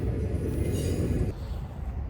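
Train passing, a heavy locomotive rumble with rolling low-end roar that holds steady, then eases slightly as the cars continue by, loud and close with no voices.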